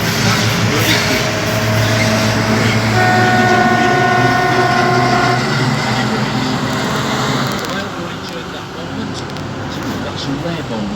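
Locomotive-hauled train rolling through the Scunthorpe steel works on a brake van tour, a steady loud rumble of wheels and wagons with brake squeal tones midway, while people talk over it.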